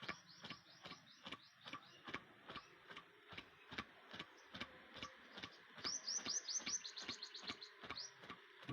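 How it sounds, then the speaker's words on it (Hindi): Small birds chirp and tweet repeatedly in the morning during an outdoor yoga session, bright quick calls in rapid bursts alongside steady ticking clicks, with a dense flurry of chirps near the end. "चिड़ियों की आवाज़ भी आप सुन सकते हैं।"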